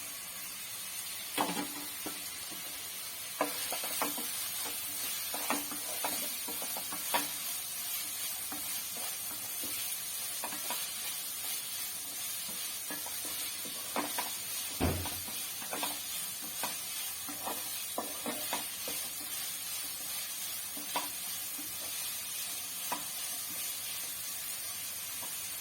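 Finely chopped onions sauté in two or three spoons of hot oil in a pan for a banana-flower and tapioca cutlet, giving a continuous soft sizzle with repeated scraping stirs, close and steady.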